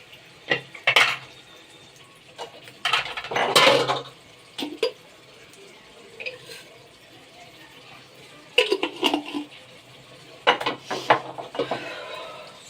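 Stirring food in a cooking pot with a spoon, sugar being added, heard as faint scattered scrapes and metallic clinks in bursts against a quiet kitchen background.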